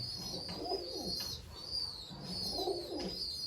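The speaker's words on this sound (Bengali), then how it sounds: "এই পায়রাটা এই কোয়ালিটি দেখুন" Pigeons coo softly in a pigeon loft in Kolyanpur, Baruipur, with rhythmic low calls repeating in two clear bouts over a faint, steady background with a thin high tone.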